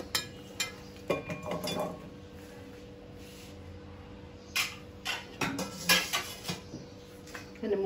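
Flat beans and small potatoes dropped into a metal frying pan, a scattered series of clinks and clatters in bursts with quiet pauses between, close and fairly loud.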